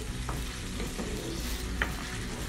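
Onions sizzle steadily in hot oil while being stirred and browned for an Arabian kabsa, with a constant close frying hiss and occasional utensil scrapes.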